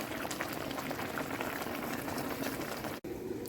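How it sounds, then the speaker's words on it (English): A covered pot of food bubbles and steams at a steady, close, full boil, a dense continuous gurgling rush that drops away abruptly near the end. "So I'm just going to cover it and let it finish steam down."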